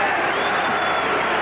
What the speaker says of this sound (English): when you hear sort of a booing sound, they're chanting